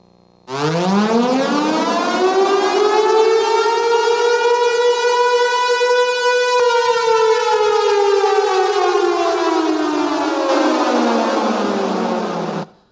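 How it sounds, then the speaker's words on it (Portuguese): An emergency civil defense siren played during a church sermon, rising to a loud sustained wail that holds steady for about twelve seconds before slowly falling, heard alone with no talking. "Essa é uma sirene de emergência"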